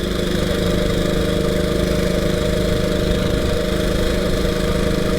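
A 1926 HRD Model 80 motorcycle with a race-tuned 350cc JAP engine cruises along on the road, its steady, rapid exhaust beat droning loud and close without pause.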